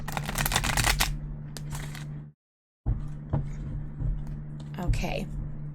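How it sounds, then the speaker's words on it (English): Tarot cards being shuffled by hand, a dense riffling, rustling patter that breaks off briefly and resumes, close to the microphone with steady background hum. "I'm going to go ahead and shuffle so you guys know that your cards come out naturally and organically."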